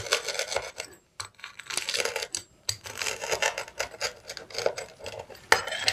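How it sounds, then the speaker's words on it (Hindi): Crisp crunching and rasping as a knife saws through a crunchy fried chicken bread pocket samosa, in repeated close strokes with a couple of brief pauses. "आपको आवाज़ आ रही होगी ये कितना क्रिस्पी बना है"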